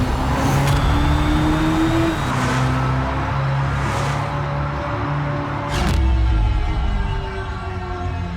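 Hyundai IONIQ 6 N high-performance car producing a loud, sustained synthetic roar with stepped pitch rises and drops like gear shifts, with no talking.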